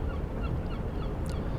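Seagulls call faintly in the Virtual Sailor NG simulator as a cruise ship arrives in Maui on a calm morning. Their scattered honking cries sit over a steady rushing wash of sea and ship noise.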